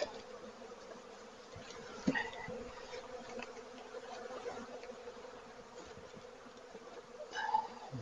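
Honeybees hum in a soft, steady swarm around a hive during a hive inspection, with brief louder buzzes as individual bees pass near.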